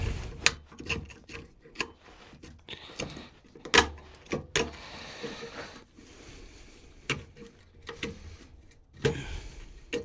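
Steel chisel chopping and paring a wood mortise for a dog gate: sharp, irregular taps and knocks with scraping rubs between them, close and fairly loud, with no talking.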